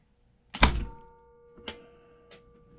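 A powder-actuated Ramset tool fires into half-inch steel plate with one sharp, loud crack, then a decaying metallic ring, followed by two fainter knocks.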